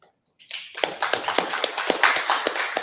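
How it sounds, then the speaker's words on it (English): An audience breaks into applause after a speech, a dense, steady patter of many hands clapping that swells in quickly after a brief silence and carries on close and fairly loud. "you'll always hear these clapping hands, and people really appreciate"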